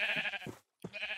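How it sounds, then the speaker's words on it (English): A sheep bleats twice in Minecraft, each a wavering, nasal cry heard up close, separated by a brief silent gap. "What if I just kill those sheep?"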